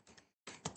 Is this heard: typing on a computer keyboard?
yes